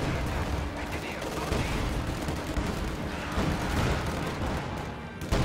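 B4 howitzer artillery firing in a WWII strategy video game, dense rumbling booms and crackling battle fire under continuous spoken commentary, a steady, distant-sounding barrage.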